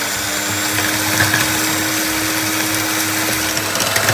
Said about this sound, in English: start whisking again all these ingredients till all this thing is mixed well.